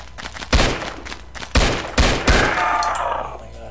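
Gunfire in the Roblox game Blackhawk Rescue Mission: four sharp, loud shots in quick uneven succession, each trailing into a short echoing decay over a low background.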